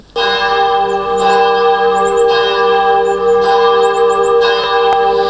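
Church bells ring loudly and steadily, several bell tones sounding together in a sustained, repeating peal with rhythmic strikes and long ringing overtones, close and with no voices.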